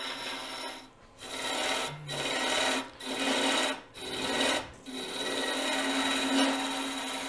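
Woodturning tool cutting away waste wood on a turning hollow form, a loud continuous rasping scrape close by, broken by several short pauses as the tool lifts off.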